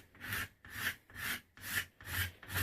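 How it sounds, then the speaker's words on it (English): A rasp scrapes a yew bowstave limb in six steady back-and-forth strokes, each a close, coarse, breathy rasping sweep with short pauses between. "I may even take the rasp because it's pretty heavy there still"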